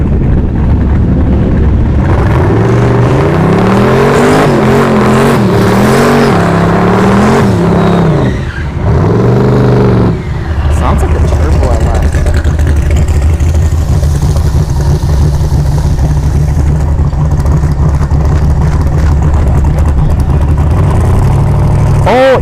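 A Fox body car launches hard at a drag strip, its engine roaring loud and close as revs rise and fall through gear changes, then settles into a lower, steady rumble with faint voices around.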